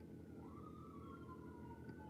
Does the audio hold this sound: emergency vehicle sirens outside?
yes